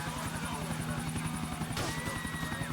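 A helicopter in the video game GTA 4 flies with a steady, rapid rotor thump and engine whine throughout, heard close over continuous game audio.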